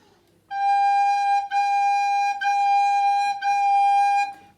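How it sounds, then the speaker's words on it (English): A recorder plays a clear, steady note with the finger holes fully closed, repeated four times in sustained tones with short gaps, close and alone. "And that will give me a very clear sound like this."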